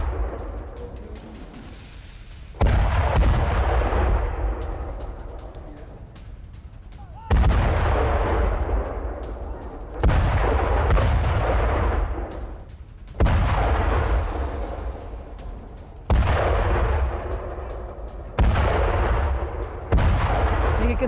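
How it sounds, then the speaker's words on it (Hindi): Heavy explosions in Russia–Ukraine war footage, about seven deep booms spaced a few seconds apart, each a sudden loud blast trailing into a long rumbling decay. "देखिए किस तरह से एक के बाद एक धमाके किए गए।"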